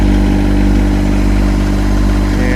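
A Yanmar SA324 compact tractor's diesel engine runs loud and steady close by, holding a high, even drone with strong low harmonics as it is revved to about 2,000 RPM in low range, four-wheel drive.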